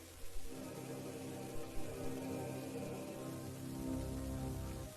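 Steady rain falling, a continuous even hiss with a few soft drop-like taps near the start, moderately quiet and unbroken for several seconds.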